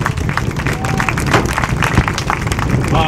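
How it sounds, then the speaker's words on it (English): Audience applause for young participants at a cattle show, steady clapping from a crowd that fills the whole moment at an even, moderate level. "Let's give these young individuals a round of applause for a nice job today."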